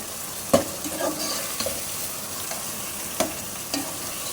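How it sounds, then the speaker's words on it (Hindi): Prawns hiss and sizzle steadily in a hot pan over high heat while cooking for a prawn pulao, with a few sharp spoon clinks and stirring knocks scattered over the continuous frying. "अब हम इसमें झींगे शामिल कर देंगे। आँच को तेज़ रखनी है आपने।"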